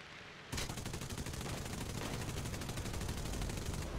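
Wing guns of a CW-21 fighter in War Thunder, opening up after a brief lull into a long, unbroken burst of rapid rattling gunfire, loud and close, with no talking.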